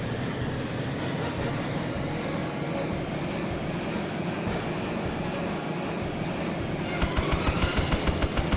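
Harrier jet engine roaring in jet mode in the video game Eagle One: Harrier Attack, a loud continuous turbine whine with high tones, ending in a quick burst of rapid cannon-like thuds.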